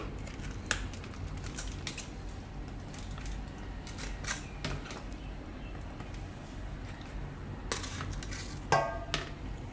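Capsicum being sliced on a kitchen board for pava Manchurian, giving scattered sharp knife taps in uneven clusters over a steady low background hum, with no talking.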